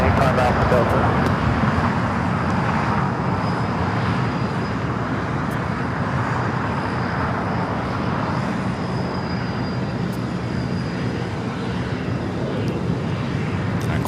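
A Qantas Airbus A380 arriving at LAX fills the air with a loud, steady jet roar that holds for the whole stretch, while a voice talks over it.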